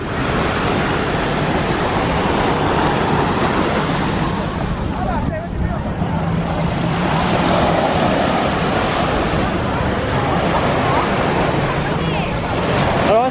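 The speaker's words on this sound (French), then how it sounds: "Ah, il y a des bonnes vagues." Ocean surf rolls steadily onto a beach in Korea, a continuous loud wash of breaking waves with wind buffeting the microphone, and a voice speaks briefly near the end.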